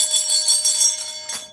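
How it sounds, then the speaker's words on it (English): A small bell rings with a bright, sustained metallic tone and lingering overtones, struck once more near the end, close and loud with no voices. "Let's ring the bell."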